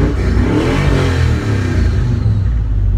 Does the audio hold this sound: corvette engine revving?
yes